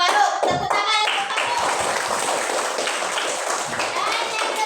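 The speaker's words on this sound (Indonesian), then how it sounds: "Farouk, tepuk tangan untuk" A classroom of students claps hands together for a classmate during a religious education lesson, bright sharp claps in a quick fast burst that quickly settles into steady even applause, with some voices mixed in underneath.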